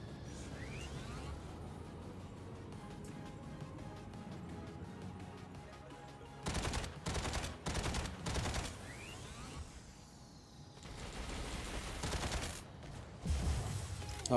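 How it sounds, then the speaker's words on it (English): Rocket mortars rain down in Mech Arena, a robot battle game, arriving as several loud rapid bursts of blasts in clusters midway and near the end, over a steady low hum of battle noise. "Oh, lots of rocket mortars over there. They're dropping them."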